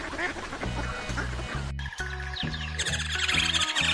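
A Muscovy duck quacks in a series of rhythmic, close, fairly loud calls over a steady background bed, with a brief dropout near the middle before the calls resume.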